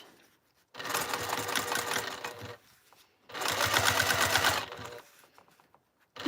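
A sewing machine stitches across quilted fabric in two loud, close bursts of rapid needle chatter, each lasting about two seconds, with quiet pauses in between.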